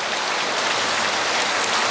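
Steady rain pours down outdoors around a large cooking pot of water while rice and chicken are cooked for a big crowd, a dense, even hiss of drops with no voices.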